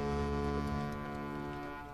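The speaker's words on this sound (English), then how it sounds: "Oh, I like how it honked the horn on the bow." A ship's horn on a boat in a video game sounds one sustained, loud, low honk for about two seconds.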